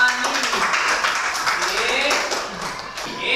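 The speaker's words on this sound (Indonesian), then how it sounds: "Kita berikan tepuk tangan untuk Alicia Salvani." A classroom of students claps for a classmate, a short burst of scattered, fairly loud applause that thins out toward the end.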